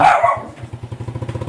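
A single dog bark at the start, then a rhythmic low chugging that carries on steadily underneath.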